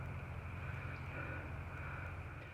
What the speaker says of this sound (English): a car going by right now.